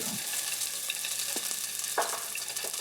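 Aromatics hit hot oil in a pan over medium-high heat, giving a bright continuous sizzle with a few soft knocks and stirring scrapes, close up and with no voices.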